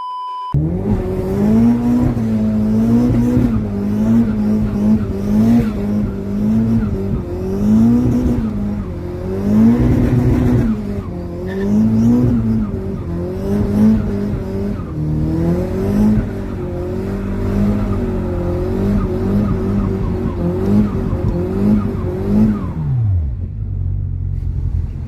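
A Nissan CA18DET engine revs repeatedly, pitch climbing and falling in cycles of throttle blips over a steady idle rumble, loud and close, ending with a falling wind-down as it cuts off.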